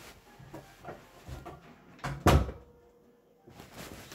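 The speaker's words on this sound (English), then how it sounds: "I have to close my door." A room door swung shut, a few soft shuffling knocks leading into one firm thud near the middle, then quiet with faint handling afterward.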